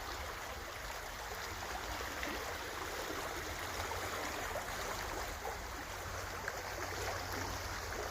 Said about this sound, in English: You can see how the stream is getting wider and wider.